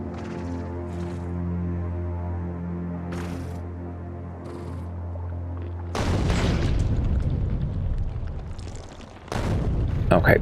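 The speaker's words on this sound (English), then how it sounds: "Artillery." Artillery fires in the Factorio video game, deep booming blasts that rumble over a low droning hum, with a loud, sustained burst of heavy fire near the end.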